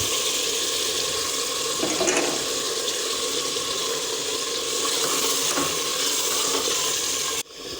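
Ground tomatoes hit hot oil with mutton chops, giving a steady, loud broadband sizzle with a couple of brief splutters; it runs unbroken without voices, then cuts off sharply just before the end.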